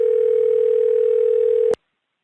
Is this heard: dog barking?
no